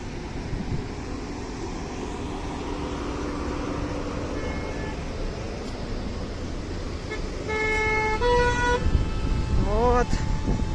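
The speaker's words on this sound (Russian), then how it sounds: "Так и слышно отовсюду сигналы машин." Car horns toot in busy street traffic, first a single short beep, then several overlapping honks and a rising siren-like tone in the final seconds, over steady road noise while a person speaks nearby.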